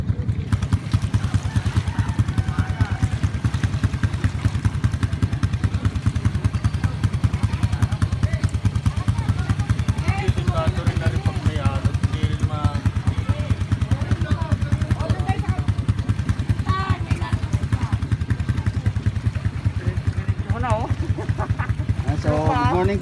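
A boat motor runs steadily on choppy water during a morning ride near San Nicolas Baywalk, a low continuous engine drone heard beneath ongoing conversation.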